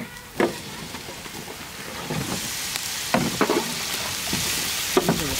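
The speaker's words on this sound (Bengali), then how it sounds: "পেঁয়াজই তো ভোনা হবে" Onions, bay leaves, cinnamon, cardamom and green chillies frying in a pan for rohu fish curry, a bright crackling sizzle with repeated stirring scrapes and clanks, close and steady.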